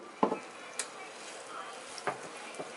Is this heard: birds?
no